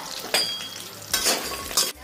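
Adauri lentil dumplings frying in mustard oil in a hot kadhai, a continuous crackling sizzle broken by three sharp bursts as they are stirred and tossed, with a metallic clink near the end.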